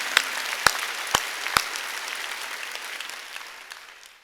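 A church congregation at an Easter Sunday service claps in unison: four sharp, evenly spaced claps, then a fading wash of scattered applause that dies away.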